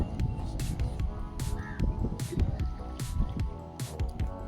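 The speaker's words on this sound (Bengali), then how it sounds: "চালটা ধুয়ে নিচ্ছি" Rice is washed by hand in a bucket of lake water outdoors, with irregular close splashing, sloshing and squishing, and a crow cawing now and then in the background.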